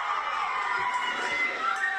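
A large crowd at a live wrestling event cheering and shouting together, a dense, continuous roar of many voices with high-pitched yells standing out.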